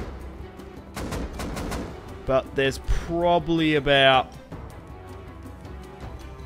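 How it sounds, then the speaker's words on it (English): Gunfire and explosions in the survival game Rust crackle as a series of sharp bursts through the first half, with someone talking over the in-game combat noise. "There's a lot of explosions going off."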